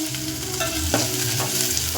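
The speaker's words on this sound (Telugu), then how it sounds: "ఉల్లిగడ్డ మంచిగా వేయించుకొని" Onions frying in a pan for an egg curry, a steady close sizzle with a few scraping stirs of a spoon, no voices.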